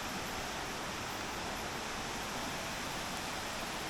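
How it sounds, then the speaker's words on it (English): Waterfall at Thunder Creek Falls cascading into a pool, a steady, even wash of rushing water that holds constant throughout with no voices. "there's not a lot of water cascading out the falls into the pool"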